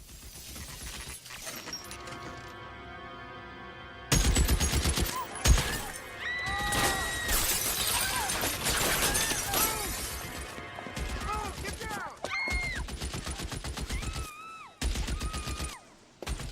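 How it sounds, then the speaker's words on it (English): Machine gun fire in L.A. Noire during a shootout, with rapid bursts of gunfire and shattering glass layered over game ambience and music, loud and sustained across most of the clip. "What the hell gun even is that? It's a fucking machine gun."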